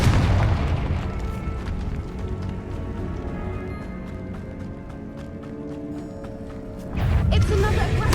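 A Confringo fire spell in the Hogwarts Legacy video game bursts with a loud booming explosion, a rumbling blast that fades and then swells again near the end, with no speech over it.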